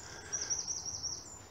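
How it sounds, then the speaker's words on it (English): A robin sings in a winter park woodland, a thin, high series of short sweet trilling phrases repeating quickly, clear and fairly close over a quiet outdoor background. "Beautiful song of the robin."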